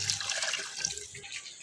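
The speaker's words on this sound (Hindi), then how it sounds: "चावल 3 गिलास हैं तो 6 गिलास पानी ऐड करेंगे" Water poured from a glass into a cooking pot of fried potatoes for aloo pulao, a close, splashing gush that tapers off into a lighter trickle.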